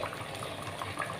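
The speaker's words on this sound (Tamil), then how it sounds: "பாருங்கள் நல்லா கொதி வந்துடுச்சு" Restaurant-style spicy fish curry boiling in a clay pot, a close, steady bubbling simmer with soft gurgles throughout the short stretch, with no talking.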